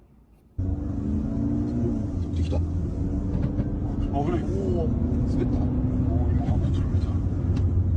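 A bus engine turning over on its own, cutting in abruptly after a quiet moment and then holding a steady, loud rumble with a faint tonal whine, voices talking faintly over it.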